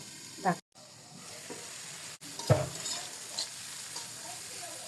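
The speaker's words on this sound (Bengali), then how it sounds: "তেল আছে, তেলে ভাজা ভাজা করতেছি।" Pointed gourd peels frying in oil, a continuous close sizzle with a few sharp clinks and stirring scrapes from a utensil in the pan.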